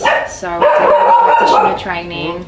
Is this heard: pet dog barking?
yes